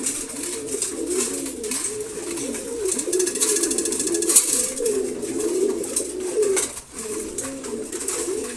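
Domestic pigeons coo steadily while feeding in the morning, a red male among a favourite pair, soft overlapping calls close by and continuous throughout.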